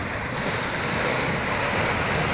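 Sea water washes over people at the shore in a steady, loud broadband roar of surf that stays constant with no breaks or voices.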